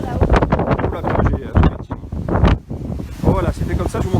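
Strong gusty wind buffets the microphone on a mountain summit at Bugarach, in loud uneven bursts with brief lulls, while people talk nearby.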